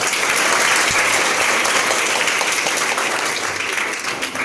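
Students at a motivational seminar in a school hall give a speaker a sustained round of dense clapping, loud and steady throughout before easing slightly at the end.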